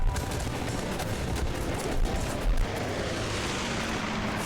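Dense rolling gunfire and explosions from a multiplayer battle in the strategy game Guns Up!, a continuous crackling barrage with a few heavier thumps near the middle, loud and steady throughout.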